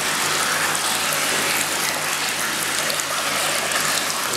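Hydrogen peroxide poured into brown koi pond water, a loud steady gushing splash that runs continuously without pause.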